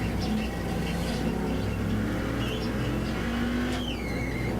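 A sim racing car on the Mid Ohio circuit drops down through the gears into a corner, the engine note falling and blipping before rising again, with tire squeal near the end, loud and close.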